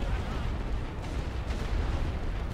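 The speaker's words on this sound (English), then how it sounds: "That heavy artillery is doing some damage." Heavy artillery in The Great War: Western Front rumbles as a dense, continuous barrage of distant booms blending into a low roar, with a couple of sharper impacts standing out.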